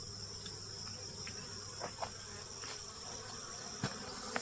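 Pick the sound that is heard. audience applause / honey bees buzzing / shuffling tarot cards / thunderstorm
honey bees buzzing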